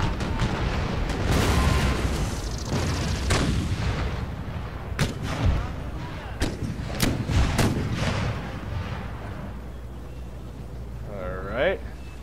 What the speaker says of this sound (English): Cannons, I think, are going to take care of most of the damage.